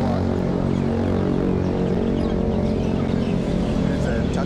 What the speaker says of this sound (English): There's a tuk-tuk.